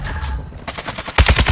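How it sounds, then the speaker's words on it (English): Explosive mortar impacts in a video game, a quick series of booming blasts and bursts of gunfire that grow louder toward the end, with no talking. "Friendly mortar strike inbound."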